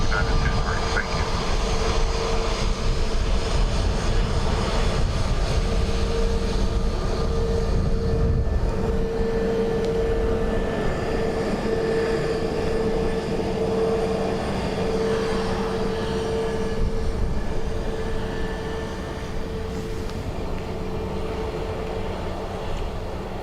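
An airliner lands at Dublin Airport in windy conditions, giving a loud, sustained jet engine roar with a steady whine. Air traffic radio talk runs over it.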